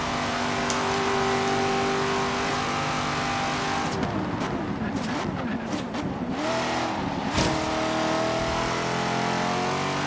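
A Corvette or BMW i8 engine revving and accelerating hard in the racing game Forza Horizon 3, loud and sustained with rising pitch sweeps and a gear-shift break midway, no talk over it.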